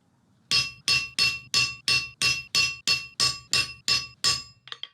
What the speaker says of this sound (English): Now I'll take a chisel and cut down each of the sides.